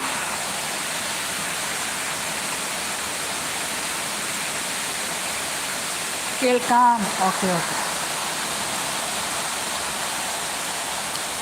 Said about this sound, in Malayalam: മഴയുടെ സൗണ്ട് നല്ല സൗണ്ടല്ലേ